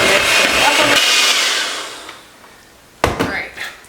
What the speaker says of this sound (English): I did go ahead and just get my hand mixer out.